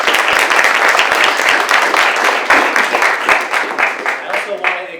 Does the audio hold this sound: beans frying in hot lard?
no